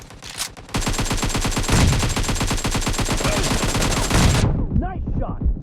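Automatic gunfire in the shooter game Dawzar fires as a long, rapid, evenly spaced burst of loud shots after a brief pause. The burst cuts off sharply, followed by a short electronic trailing sound.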